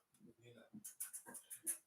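A dog choking and retching to bring up something it ate, a series of sharp, close gagging hacks and breathy heaves, with people talking nearby.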